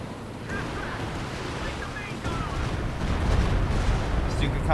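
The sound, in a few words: artillery barrage in Company of Heroes 2 video game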